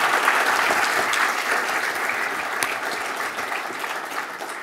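Applause from a lecture audience honoring a speaker, a thick continuous patter of many hands that starts strong and slowly tapers in loudness.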